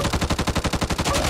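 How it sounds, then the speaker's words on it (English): An M4A1 rifle fires on full automatic in the Back 4 Blood video game, a loud rapid stream of about a dozen evenly spaced shots in one continuous burst, with no talking. "M4s and M16s on automatic actually empty the mag in about 3 seconds"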